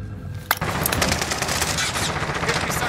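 Rapid machine gun fire from a Call of Duty match, a sharp burst near the half-second mark followed by dense, continuous automatic shooting that fills the rest of the clip loudly and up close.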